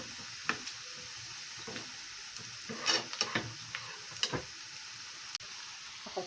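Onion frying in a pan for a lentil dish makes a soft, quiet sizzle, with scattered clicks and scrapes of stirring rising above it.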